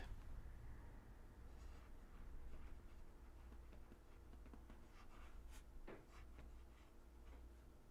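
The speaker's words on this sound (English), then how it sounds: "So I'll try to write Earl Grey T and cursive smooth question mark with this nib" A medium-nib fountain pen scratches softly across paper in a steady run of small strokes, faint and close, set against a low background hum.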